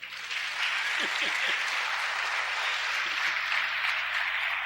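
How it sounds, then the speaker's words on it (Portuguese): Church congregation applauding Jesus during a healing service, a steady wash of clapping that holds throughout at moderate level, with a few brief voices near the start. "Vamos aplaudir Jesus."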